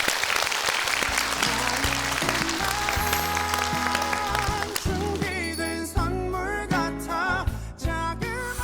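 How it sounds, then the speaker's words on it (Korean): A studio audience on a Korean talk show bursts into sustained applause, dense and steady, with bright music entering partway through and carrying on over the clapping. "박수 한번 주세요."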